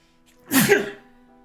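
A single sharp sneeze bursts out close by, quick and loud, then fades into quiet.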